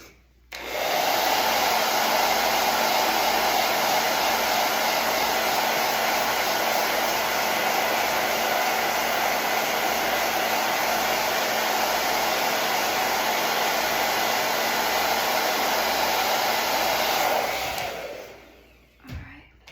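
A hair dryer switches on and runs at a loud, steady whine for about seventeen seconds over a painting, then cuts off, with a brief faint knock right after.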